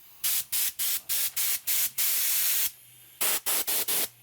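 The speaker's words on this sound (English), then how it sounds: "the air comes out at high pressure, then rapidly expands into a cone that increases" High-pressure air blow gun firing a rapid series of short hissing blasts, then one longer sustained burst, then more quick bursts, loud and close with no talk.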